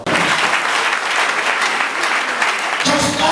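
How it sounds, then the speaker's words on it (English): A congregation at a funeral service applauds steadily and loudly for about three seconds, dense clapping filling the space, with a voice starting to speak over it at the end. "just clap to Jesus."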